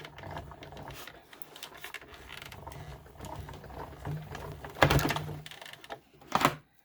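A die cut and emboss machine rolls a card sandwich through its gray plate, giving a steady low mechanical grinding and creaking with a couple of louder clunks near the end, close and without speech.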